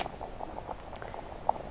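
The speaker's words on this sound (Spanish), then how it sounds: "Estamos friendo ají para caldito" Soft, steady sizzle and bubbling of chili peppers frying in hot oil outdoors in the countryside, with small crackles and one sharper pop near the end.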